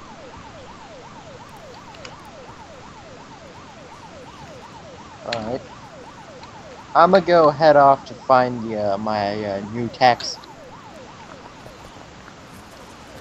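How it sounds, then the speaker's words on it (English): A wailing siren in the video game Unturned rises and falls steadily in the background, with someone talking over it in bursts partway through. "Just listen to the fucking blaring siren."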